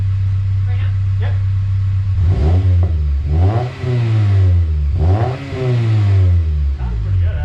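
A budget coupe's engine, fitted with a new budget exhaust, idles and then revs up in three loud blips that rise and fall, close by, with a voice speaking between them.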